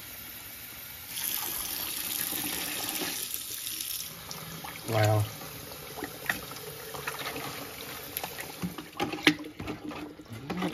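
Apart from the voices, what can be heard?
hot water poured onto sugar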